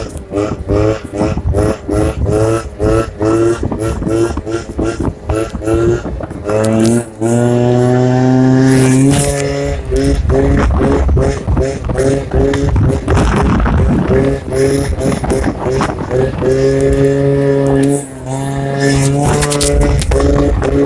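Two-stroke motorbike engine fitted with a different exhaust pipe, running loud and steady with a rasping, buzzing tone that rises and falls as it revs, rising sharply in pitch around the middle and continuing throughout.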